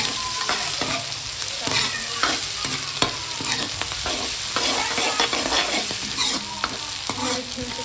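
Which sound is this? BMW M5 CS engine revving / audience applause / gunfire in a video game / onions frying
onions frying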